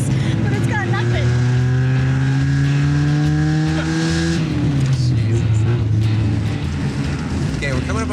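A cheap, worn $500 junker car on an off-road rally labors under load, its engine droning loud and steady with a rising strained pitch that drops as it shifts, heard from inside the cabin while people talk over it.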